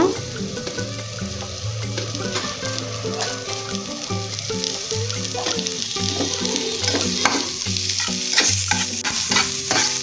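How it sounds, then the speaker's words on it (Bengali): Chopped onions fry briefly in a pan while a dried puti fish shutki dish is cooked, making a constant close sizzle broken by repeated rhythmic stirring scrapes, with no voices. "এ পর্যায়ে আমি পেঁয়াজ কুচিগুলো সামান্য একটু ভেজে নিব"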